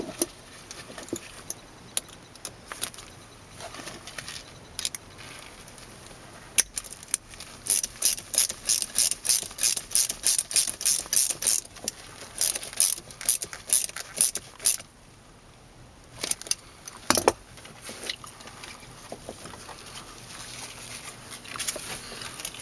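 Ratchet wrench tightening a fitting on a BMW E36 fuel pump test setup, rapid clicking pawl bursts in several runs, close and fairly loud, with brief pauses and light handling clatter.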